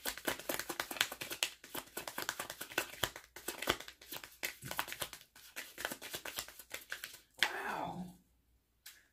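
Tarot cards are riffled and shuffled in rapid bursts of crisp flicking and snapping, close up, with short pauses between rounds.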